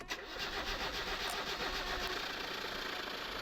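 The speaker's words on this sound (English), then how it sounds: "Now, let's turn on the car." A car engine in the video game My Summer Car cranks and catches, then settles into a steady mid-pitched idle with a faint high whine above it.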